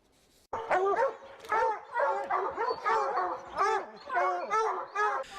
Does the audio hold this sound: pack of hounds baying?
yes